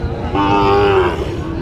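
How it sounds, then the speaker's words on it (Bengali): A bull lows once at the Panchbibi livestock market, a loud, close, drawn-out moo of about a second over a low background of market bustle. "এত সুন্দর একটা গরু"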